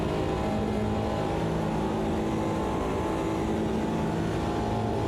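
Race cars, including a Mini, roar around a circuit in a continuous, dense engine drone with a steady, unbroken rumble and no breaks or voices.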